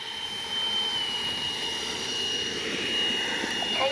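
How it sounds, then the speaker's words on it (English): An FMS Integral 80mm electric ducted-fan RC jet with flaps up spools up for takeoff, a steady close whine with a bright high-pitched tone that grows slightly louder, heard alone. "And we'll take off this time with no flaps."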